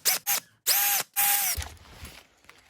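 A power drill backs screws out of a Redcat Tornado nitro RC buggy: three short, loud, whining bursts close by, then light clattering of parts.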